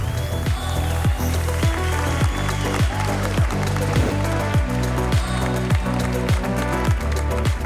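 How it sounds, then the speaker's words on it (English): Applause from an audience at an award ceremony, a steady dense wash of clapping with a rhythmic low thumping beat underneath, sustained and fairly loud throughout. "Big round of applause for Bas."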